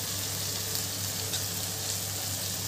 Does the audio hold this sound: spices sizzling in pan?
yes